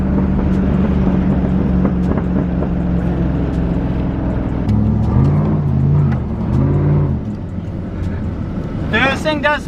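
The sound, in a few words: truck doing posi-traction burnout, engine revving, tires spinning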